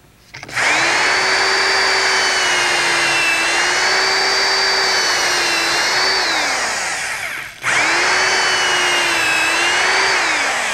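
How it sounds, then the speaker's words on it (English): A common hand drill bores holes in a pen blank clamped with a guide in a vise, a loud steady whine running several seconds, briefly dropping in pitch and stopping, then starting again alone. "just use a common hand drill to drill the holes."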